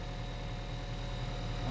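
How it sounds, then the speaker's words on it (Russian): Honda Vezel engine running steadily at idle, with a low, even hum and a faint high whine throughout, close and without talk. "Чисто вот двигатель."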